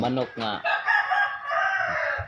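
A rooster crows loudly and close by, a long drawn-out call following a few rapid clucks, with faint background noise.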